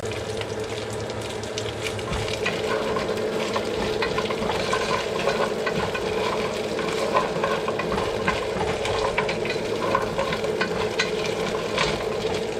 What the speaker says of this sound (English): And you hear that sizzling?